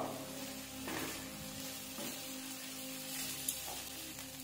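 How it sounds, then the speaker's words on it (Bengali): Rice, raw jackfruit and spices frying in a pan for jackfruit pulao give a steady, soft sizzle with faint stirring scrapes, a quiet, continuous background with no voices. "মশলা, এঁচোড় আর চাল খুব ভালো করে আমরা একটু কষিয়ে নেব।"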